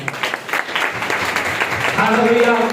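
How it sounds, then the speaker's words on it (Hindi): A congregation claps at a Christmas church service, a mixed patter of hands that swells slightly, with voices and a sustained tone rising near the end. "अपने आप के लिए ताली बजाएं"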